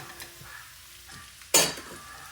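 Ginger and onion stirred in a hot pan, a faint low sizzle with soft scrapes, then one sharp loud clatter or splash of sizzling partway through, no voices.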